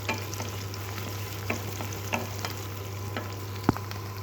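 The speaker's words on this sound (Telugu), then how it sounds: "ఉల్లిపాయలు వేసి అలా కొంచెం గోల్డ్ కలర్ వచ్చేంత వరకు ఫ్రై చేసుకుంటాను" Onions fry in hot oil with whole spices like cinnamon, cloves and peppercorns, giving a steady close sizzle broken by occasional soft stirring knocks and one sharper clack of the utensil.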